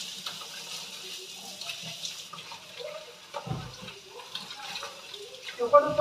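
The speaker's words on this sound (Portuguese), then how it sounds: "Então, gente, eu já tô lavando a abobrinha, né?" Tap water runs over green zucchini being washed in a home kitchen sink, a steady close splashing stream with some handling clatter and a voice briefly heard.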